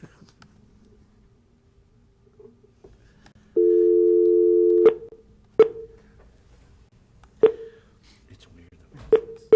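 A telephone line tone sounds during a call at a school board meeting: one steady held tone lasting over a second, followed by several sharp, separated clicks or beeps, with little else around it.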